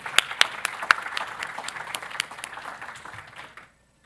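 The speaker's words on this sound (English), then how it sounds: "Let's give them a round of applause." An audience at the closing session of a blue carbon and wetlands conference applauds, starting with a few sharp individual claps, swelling into a moderate patter, then tapering off into silence after about three and a half seconds.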